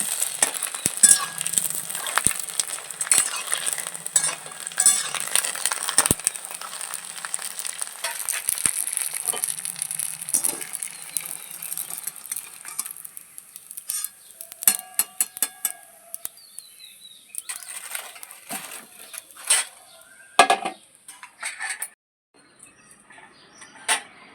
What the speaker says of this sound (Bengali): বাদ বাকি সব ভাজা হয়ে গেছে এখন একোটা আছে ভেজে নেবো আমি